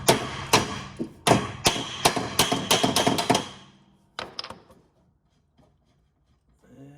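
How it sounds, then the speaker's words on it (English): A hammer strikes a 19 mm nut threaded a few turns onto a shaft to knock a gear loose: a quick series of sharp metallic taps in uneven rhythm, then a short pause, a couple more hits and quiet. "Let's hit it with a hammer a little bit."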